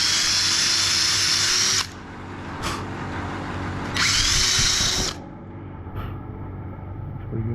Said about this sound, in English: countersink the rivet